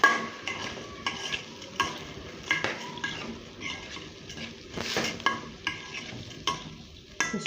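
Kofta mixture is sautéed with onion, oil and spices in a pan, with a spoon scraping and stirring in regular strokes over a soft sizzle, close up and with no talking.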